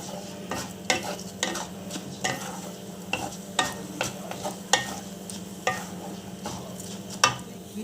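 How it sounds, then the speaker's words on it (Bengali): Rice is dry-fried and stirred in a nonstick wok for payesh, with a faint steady sizzle broken by regular scraping strokes of a spoon. A low hum runs underneath. "চালটা আগে খালি কড়াইতেই, ননস্টিকের কড়াইতে একটু ভেজে নেব।"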